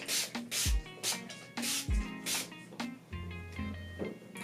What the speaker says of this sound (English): I'm gonna spray this on my face to prep my face